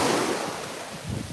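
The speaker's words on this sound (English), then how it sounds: "ocean's very loud" Ocean surf on a Florida beach rushes loudly and continuously at close range, with broad wash and wind rumble on the microphone.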